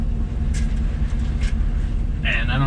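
An LS-swapped 1966 Chevy El Camino engine idles high from a faulty idle air control valve, giving a loud, steady low rumble heard from inside the car, with a few brief higher sounds over it.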